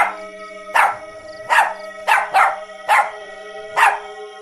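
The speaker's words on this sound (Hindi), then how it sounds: "जोर जोर से भौंकने लगता है" A dog barks loudly and close by in a horror story, six sharp barks spaced at a fairly even pace, two coming in quick succession.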